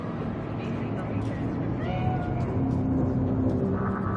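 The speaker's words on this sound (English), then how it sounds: "Chill, just a cat." A cat in the video game Cyberpunk gives a couple of short meows amid a dense, steady background hum, with voices talking over it.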